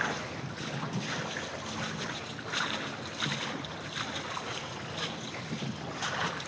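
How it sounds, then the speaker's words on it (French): A steady low boat engine drone as the boat motors out of a harbor, mixed with water washing and splashing against the hull, with some wind rushing across the microphone. "le son des vagues sur la coque, le bruit du moteur parce qu'on sort du port"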